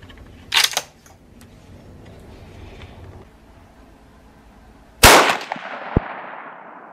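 Two sharp, loud rifle shots from a Weatherby Mark V Hunter fired at a steel plate, each a close crack, the second followed by a brief decaying echo and a faint metallic ping as the bullet strikes the plate.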